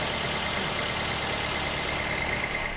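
A 2012 Toyota Avanza Veloz engine idles smoothly in a steady, even hum that holds at a constant level throughout, close by, with no voices.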